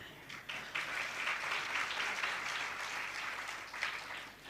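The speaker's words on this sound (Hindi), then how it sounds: "देखिए हम लोग तो प्रसन्न होके केवल ताली पीट रहे," An audience applauds during a spiritual discourse on the Ramayana, steady dense clapping from many hands that holds at an even level for several seconds, with no voices over it.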